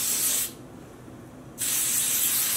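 Black color mist dye is sprayed onto a sock blank in two loud, steady hissing bursts. A short quiet gap of about a second separates them.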